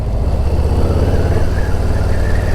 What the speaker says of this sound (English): The exhaust doesn't sound bad at all. It's got sort of a rumble to it.